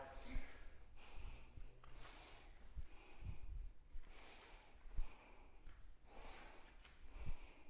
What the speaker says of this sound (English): You can hear me breathing because this is hard.